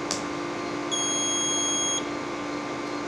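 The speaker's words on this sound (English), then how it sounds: "but it will beep." An Okidata Pacemark 3410 9-pin wide-format dot matrix printer gives a single steady electronic beep, high-pitched and sustained for about a second, over a low constant machine hum.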